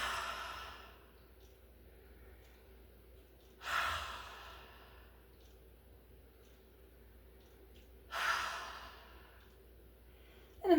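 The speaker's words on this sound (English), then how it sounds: "I'm going to blow 3 audible blows out my mouth," Two forceful breaths blown out through the mouth during a breathing exercise, spaced several seconds apart against quiet room tone, with a third blow starting at the very end.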